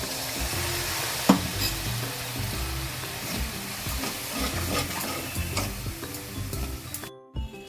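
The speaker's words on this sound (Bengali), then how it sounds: "একটুখানি চিনি দিলাম, স্বাদ মতো নুন দিলাম, জল দিয়ে মশলাটা কষিয়ে নিলাম।" Spice paste with chilli powder, sugar, salt and a splash of water cooking down in a pan, giving a dense, continuous sizzle and bubbling with scattered stirring scrapes until it stops abruptly.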